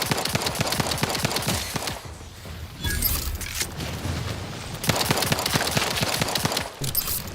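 Sustained automatic gunfire in the video game The Outer Worlds 2 on hardest difficulty, a loud rapid stream of shots broken by a brief lull and a booming impact, then more continuous firing.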